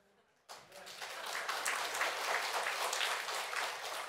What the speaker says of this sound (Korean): 그럼 여러분 진짜 박수 쳐야 됩니다.